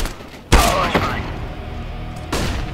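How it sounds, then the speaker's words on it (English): A flashbang grenade in CS:GO bursts with a loud, sudden bang, followed by a ringing, noisy wash and a second softer burst near the end. "Throwing flashbang."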